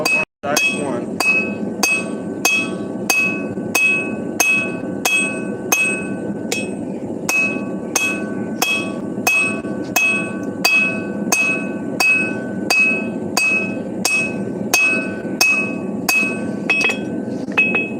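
A hammer strikes metal over and over while a hammer head is forged, with steady evenly spaced blows ringing with a bright metallic clink, loud and close, continuing for the whole stretch with no talk.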